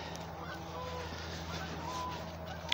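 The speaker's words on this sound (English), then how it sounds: "Canada geese." Canada geese honking, a steady flock chorus of calls at moderate distance over constant low background hum, with no one talking.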